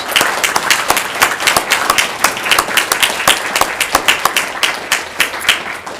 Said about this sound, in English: I invite everyone in the room, including each of you, to a round of applause to recognize yourselves and your peers.